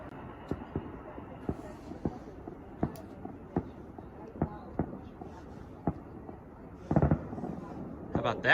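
Fireworks going off at a distance during a live outdoor broadcast near a passing train, with a steady series of sharp pops spaced about half a second to a second apart, followed by a louder rumbling burst near the end.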